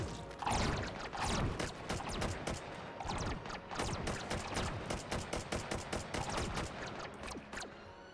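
Dense, fast-paced semi-automatic gunfire in the VR shooter Hot Dogs, Horseshoes & Hand Grenades, sharp repeated shots with mechanical clatter, loud and close throughout, with no talk over it.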